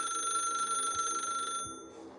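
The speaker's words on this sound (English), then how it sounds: "Then the phone rang a third time." An old rotary telephone rings with a shrill, sustained metallic bell tone for about a second and a half, then cuts off, leaving a fainter trailing ring.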